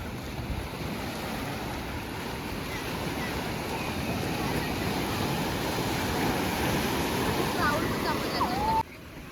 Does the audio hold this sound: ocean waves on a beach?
yes